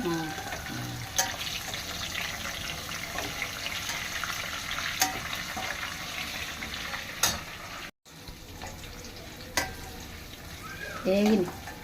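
Garlic and curry leaves sizzle and crackle in hot oil for a tempering, a steady close frying hiss with occasional stirring clinks, while voices talk over it.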